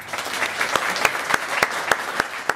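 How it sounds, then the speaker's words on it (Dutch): A lecture audience gives a warm round of applause to welcome a guest speaker. Dense clapping from many hands stays steady and fairly loud, with a few sharper claps standing out near the front. "Ik vraag jullie al een heel hartelijk applaus voor onze gast van vandaag, Asja ten Broeke."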